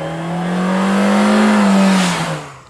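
A 2018 Nissan Kicks small SUV engine revs hard in sport mode and climbs in pitch as it accelerates, loud and close, then eases off near the end.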